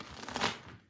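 Tarot cards being shuffled by hand, a soft, continuous papery riffle and rustle that swells in the middle and fades out, close and fairly quiet, with no voices.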